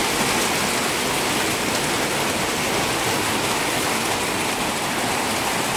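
Steady heavy rain pours down without pause, a dense close hiss of drops on surfaces filling the whole stretch with no voices.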